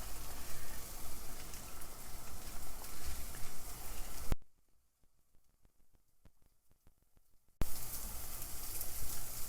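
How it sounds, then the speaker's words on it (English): Guanciale beginning to sizzle in a heating pan for carbonara, a soft steady crackle and hiss, interrupted by a few seconds of near silence before the sizzle returns. "as the pan starts to heat up, the guanciale is starting to sizzle a little bit"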